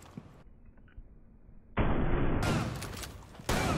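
Gunfire in Rainbow Six Siege: after a quiet stretch with faint clicks, a loud burst of shots erupts, trails off, then a second sharp blast hits near the end.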